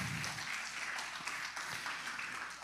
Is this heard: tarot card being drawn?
no